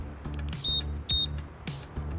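A Honda PCX 160 scooter's smart-key alarm answer-back system gives two short, bright, high-pitched beeps in quick succession over a steady low background hum.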